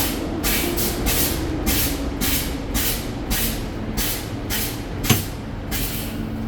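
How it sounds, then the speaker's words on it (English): A Fresno FAX bus or truck air brake being fanned repeatedly during a spring brake pop-up test: a steady series of hissing air bursts about every half second, with a sharper pop near the end over a low engine hum. "I'm going to conduct this test by continuing to fan my service brake until my spring brake pops up"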